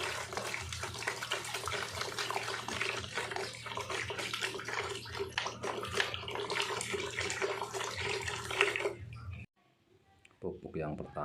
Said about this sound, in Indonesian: saya buang dulu airnya